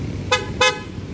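Two short, loud horn honks in quick succession from a Yamaha Aerox 155 motorcycle with a dual horn setup, sharp beeps close by over low engine rumble.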